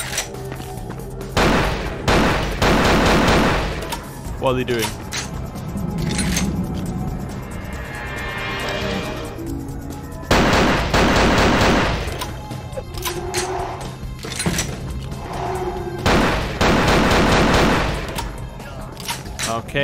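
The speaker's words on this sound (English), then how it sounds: "there was like explosions and they fell down" Repeated blasts and rattling gunfire in the video game Vampire: The Masquerade – Bloodlines come in loud bursts separated by quieter stretches, with a player speaking briefly during a lull.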